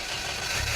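Engine of an armored vehicle in a homebrew video game, a steady low idling rumble with mild vibration, continuous and fairly close for under a second.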